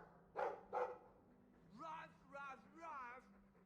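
Two short barks from a Mabari war dog in the fantasy game Dragon Age II, followed by quieter whining, yip-like vocal sounds over a low steady background hum.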